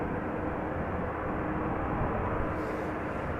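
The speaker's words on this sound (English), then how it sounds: "some arriving airplanes that have landed on 18 Center." Steady broadband roar of airplanes at Amsterdam Schiphol Airport near runway 18 Center, a constant loud rumble with no distinct rise or fall and no talk.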